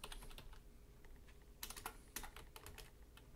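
Fingers tap out a short word on a computer keyboard, quick quiet clicks in two brief bursts with small pauses between them.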